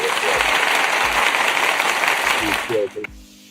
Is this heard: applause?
yes